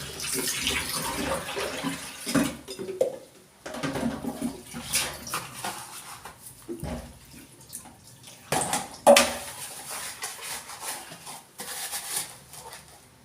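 Running tap water splashes over a tiffin box being rinsed, with intermittent clatter and gurgling bursts as it is handled up close.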